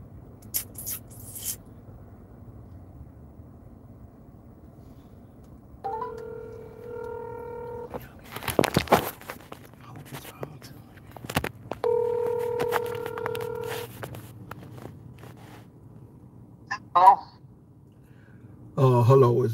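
An outgoing phone call is placed: a few sharp keypad beeps, then two bursts of steady repeating ringback tone with a quiet pause between them. A faint voice answers near the end.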